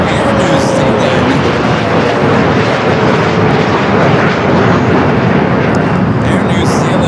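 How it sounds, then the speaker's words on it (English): An Air New Zealand Boeing 777-300ER jet at LAX roars loudly and steadily with a broad rushing engine noise throughout, close and overpowering. "Air New Zealand at 777-300ER wearing the all-white livery, flight 6 coming from Auckland."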